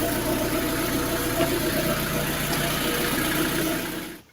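A Lada Granta engine idles steadily after an oil change, a close, even mechanical hum with a faint ticking texture, running alone until it cuts off near the end.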